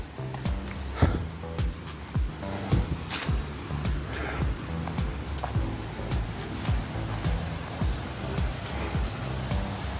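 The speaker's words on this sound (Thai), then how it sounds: "น้ำตกเล็ก" A small waterfall in Mae Wong National Park, Thailand, flows with a steady broadband rush of water, close and constant, with scattered clicks and splashes and no talking.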